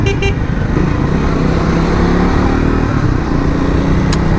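A Triumph Speed 400 motorcycle rides through city traffic, its engine a steady drone over loud road and wind noise, with other vehicles around and a brief horn-like tone near the end.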